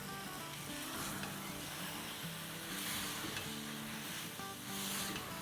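Potatoes tossed in spices and lemon fry in a pan, a faint steady sizzle with soft stirring scrapes and gentle swells, no talk.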